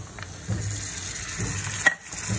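Marinated minced meat goes into a pan of onions frying in hot oil, bringing a close, steady sizzle with a brief scrape and stir in the middle.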